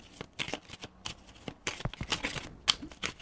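A deck of tarot cards being shuffled by hand, with repeated crisp riffling bursts and soft slaps in an uneven rhythm, close and moderately loud, no voices.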